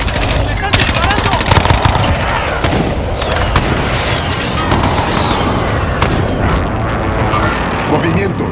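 Dense gunfire in Call of Duty Warzone, loud bursts of automatic and single shots mixed with booms, continuous and close, with a voice speaking over the action.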